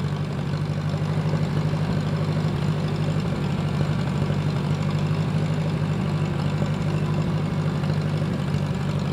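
A Kubota L2501 tractor engine runs steadily while spreading gravel, a loud, close, constant low diesel drone with a slight knocking rumble throughout.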